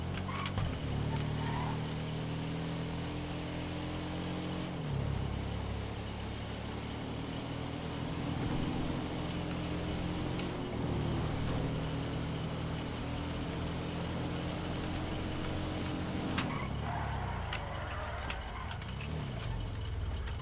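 A buggy drives in GTA 5 Online, its engine droning steadily at close range with rising and falling revs at a few gear shifts, and no talk over it.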